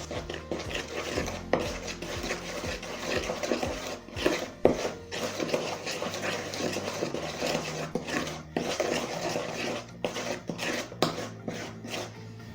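Cake batter of flour and yogurt being mixed in a bowl, a soft irregular scraping and knocking of a utensil against the bowl, close and fairly quiet, with no talk.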